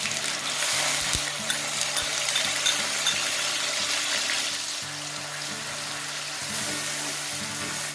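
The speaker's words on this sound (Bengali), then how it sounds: "ফোড়নগুলো একটু ভাজা হয়ে গেলে এতে আমি পেঁয়াজ বাটাটা দিয়ে দেবো" Onion paste frying in hot oil with tempered whole spices such as cumin and bay leaf, on a lowered flame while making chola bhatura: a steady, dense sizzle runs throughout over a faint low hum, with no talking.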